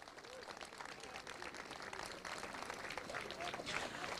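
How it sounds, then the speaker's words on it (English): A crowd at a British Universities Kart Championship event claps for the marshals, a faint, dense patter of applause that holds steady and builds slightly toward the end. "I'd like you just to put your hands together for our marshals today out there"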